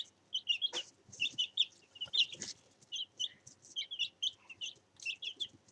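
Backyard chickens cluck and chirp in short, repeated bursts throughout, fairly close and moderately quiet, with no talking.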